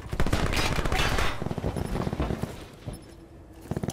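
Video-game gunfire from shooters erupts in dense bursts of rapid shots for the first second and a half, then thins to scattered, fainter shots.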